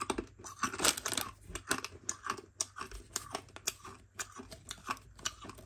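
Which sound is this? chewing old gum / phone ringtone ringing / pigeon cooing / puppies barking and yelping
chewing old gum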